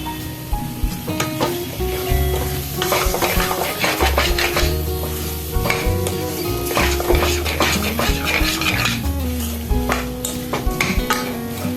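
Ghugni is stirred and sautéed in a pan, a close sizzle broken by repeated scraping and clinking of a spoon against the pan in uneven bursts, with a low background hum and no speech.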